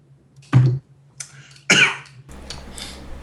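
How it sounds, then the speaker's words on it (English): Two sharp coughs from a player at a card-game table, one short and low, the second longer and harsher, followed by faint rustling and soft background noise. "That was a real cough."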